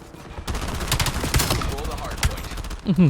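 Rapid bursts of gunfire in the futuristic 2035 multiplayer shooter Call of Duty: Black Ops 7, sharp overlapping shots crackling over busy game noise, with a couple of louder close reports and a short pause before the end.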